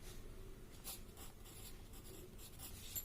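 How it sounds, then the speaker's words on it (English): Pen or pencil writing an answer by hand, faint close scratching strokes in short bursts separated by brief pauses, with no voices. "So we will write the answer."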